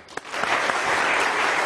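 Studio audience applause on the Iranian comedy show Khandevaneh swells quickly after a single sharp clap and holds as a steady, broad wash of clapping.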